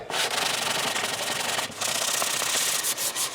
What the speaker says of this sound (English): I'm going to just sand on this whole neck.